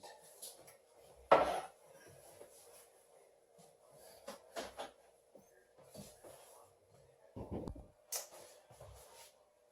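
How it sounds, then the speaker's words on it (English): Metal lids are tightened on hot home-canned jars of salmon and tuna, with faint scattered clinks, twists and knocks, a few sharper taps, and soft movement in a quiet kitchen. "all I have to do now is tighten the lid"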